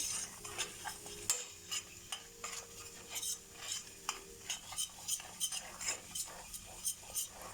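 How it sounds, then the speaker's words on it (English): Thick flour-and-butter white sauce bubbling in a heavy-based pot while a spoon stirs it, giving soft repeated scraping strokes over a faint steady sizzle, close and fairly quiet. "The flour has to cook. Nice and bubbly."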